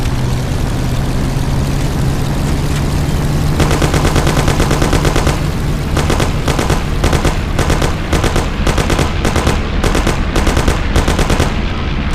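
Rapid automatic gunfire in the driving-and-shooting game Mafia: The City of Lost Heaven, loud bursts of repeated shots over a constant roaring car engine, the firing dense and sustained through most of the stretch.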